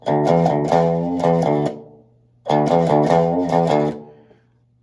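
A short electric guitar phrase played twice, with notes bent and wavering in pitch, each run ringing out before a brief pause.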